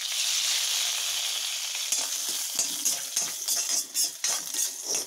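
Ingredients for a chutney sautéing in oil, a steady bright sizzle with a scrape of stirring that grows more broken and uneven toward the end, close and continuous with no talking.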